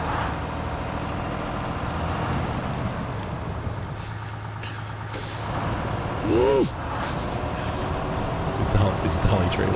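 Truck in the video game Snowrunner reversing with a dolly trailer, engine rumbling steadily with air brake hisses and a brief whining tone partway through, while someone talks over it.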